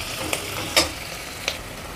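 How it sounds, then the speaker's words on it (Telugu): Onion pieces fry in a pan toward golden for goat head curry, a steady soft sizzle with a few sharp stirring scrapes. "ఉల్లిపాయ ముక్కలు కూడా ఇది చక్కగా ఎర్రగా వేయించాలి."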